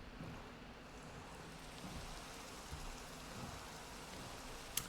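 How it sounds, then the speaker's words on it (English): Soft, steady rain falls in a Minecraft world, a faint continuous patter with no other sounds and a tiny click at the end. "oh, it's raining"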